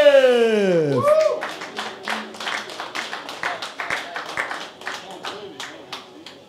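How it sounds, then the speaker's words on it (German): An audience applauds at an official boxing weigh-in in Hamburg, scattered rhythmic clapping that follows a voice with a sweeping musical sound at the start and slowly fades. "Einen großen Applaus für Magomed"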